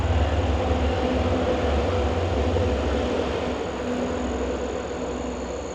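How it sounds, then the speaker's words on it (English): A commuter rail train rumbles past in an urban park corridor, a steady broadband roar with low drone that holds loud throughout and eases slightly toward the end. "a commuter rail going by"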